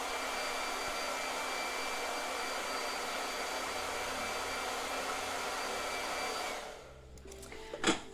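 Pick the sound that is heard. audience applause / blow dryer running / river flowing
blow dryer running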